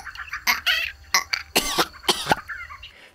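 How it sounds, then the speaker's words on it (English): A series of harsh coughs in quick bursts, close and fairly loud, with short pauses between them. "you also got like me just coughing here"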